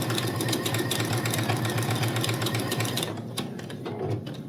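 A sewing machine stitches a quilt block in a fast, even mechanical patter up close, running steadily before slowing and easing off near the end.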